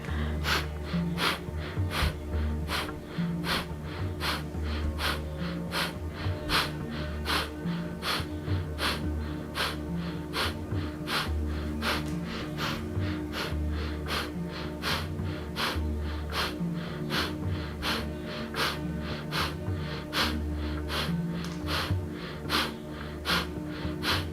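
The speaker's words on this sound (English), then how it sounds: "Start with the legs still and a nice gentle breath of fire." Rapid, rhythmic breath of fire yoga breathing, sharp nasal exhales pulsing evenly and continuously for over twenty seconds, close and fairly quiet, no speech.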